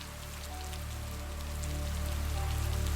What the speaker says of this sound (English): the soothing patter of rain against the window pane